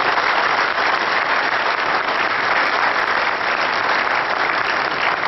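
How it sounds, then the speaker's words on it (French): Audience at a pétanque masters tournament in Madagascar applauds the organisers' wives, a dense, steady roar of many hands clapping at full volume throughout. "je vais demander à l'audience un très fort applaudissement pour toutes les épouses"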